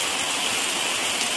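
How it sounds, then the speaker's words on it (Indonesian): Heavy rain pours down steadily in a village during strong wind, a dense, even hiss with no breaks, loud and close, with no voices. "Hujan deras, alhamdulillah hujan"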